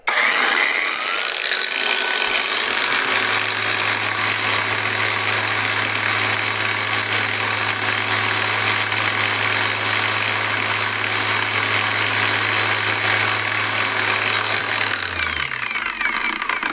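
Heimerdinger LB168 cordless angle grinder spinning freely at its second speed setting, a loud, steady high whine with a constant hum that holds for about twelve seconds before winding down at the end.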